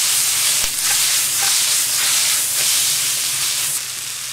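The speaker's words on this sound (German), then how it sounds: "nach 1-2 Minuten könnt ihr dann auch die Knoblauchzehen dazu geben. Und gleich mit unterschwenken." Garlic cloves fry in a pan alongside mushrooms, a loud continuous sizzle and hiss with periodic scraping strokes as the pan is stirred and tossed, close up and without speech.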